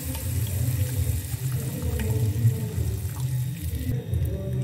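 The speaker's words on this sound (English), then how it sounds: "While the pot is on the fire, you turn in your palm oil." Palm oil pours into a pot on the fire while ogbono soup is being cooked, a steady close rush of liquid with no break and no voices.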